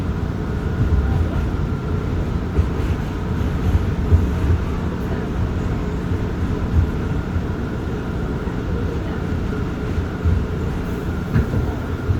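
An R179 J subway train rumbles steadily from inside a car on the Queens-bound Nassau Street line, a loud continuous low roar with rattling and faint squeals throughout.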